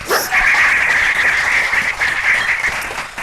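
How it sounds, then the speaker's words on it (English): A conference audience at a panel of real estate producers breaks into steady applause that fills the room for a few seconds, with no speech over it. "Let's give him a round of applause"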